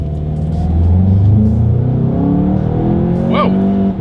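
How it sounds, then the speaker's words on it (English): Volkswagen Golf GTI VII accelerating hard on a straightaway, the engine note climbing steadily and loud from inside the cabin, with a brief higher whine near the end. "let's now go ahead and do a quick little acceleration test here with the car having full control"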